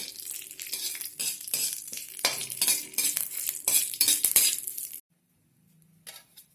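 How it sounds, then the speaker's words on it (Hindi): Curry leaves stirred and roasted in a pan, a close, crackling sizzle with repeated scraping and clinking strokes of a spoon for about five seconds before stopping abruptly, then a faint brief rustle, no talk. "हमें ये भून लेना है अच्छी तरह से, बिल्कुल इसमें गीलापन बिल्कुल ना रहे"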